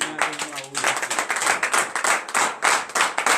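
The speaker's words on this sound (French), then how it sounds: "donner de vives acclamations à notre Seigneur" Congregation at a morning prayer service clapping in acclamation, a dense run of sharp rhythmic hand claps following a sung or spoken voice at the start.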